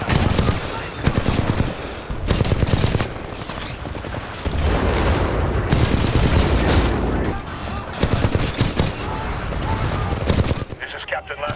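Rapid bursts of automatic gunfire in the Titanfall 2 shooter, loud and close, coming in repeated volleys with short gaps between them and a heavier sustained stretch midway.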